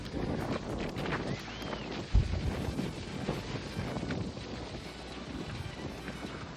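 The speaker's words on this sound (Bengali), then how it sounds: "ম্যাম হাওয়া দিচ্ছে" Wind blows across a dusty open field and buffets a phone microphone in uneven rumbling gusts, with a sharp knock partway through and faint distant sounds beneath.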